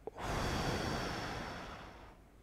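A single deep, breathy exhale, soft and close, drawn out over a couple of seconds and fading away, with no talk.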